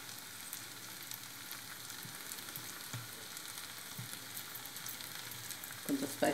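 Red chilli sauce goes into veg manchurian frying in a pan, a steady close sizzle running throughout with soft stirring scrapes and a few louder clatters near the end.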